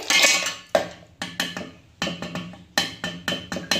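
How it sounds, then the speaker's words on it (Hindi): Ice cubes clatter one after another into a hard mixer jar already holding ghee, a series of sharp clinking drops spaced irregularly, close and distinct with no voices. "और इसके बाद में हम डालेंगे इसमें बर्फ के टुकड़े।"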